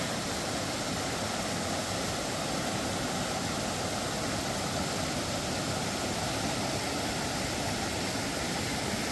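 The stream feeding the Rattle River Shelter near Gorham, New Hampshire, beside a shallow swimming hole, makes a constant broadband rush of flowing water, close and even throughout with no voices.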